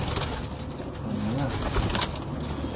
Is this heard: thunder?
no